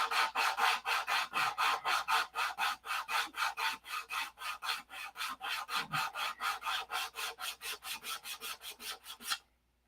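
Sanding a Z-poxy finish on a 1/2 scale Cobra model, a steady rhythmic back-and-forth rasp of many even strokes, close and alone, ending abruptly.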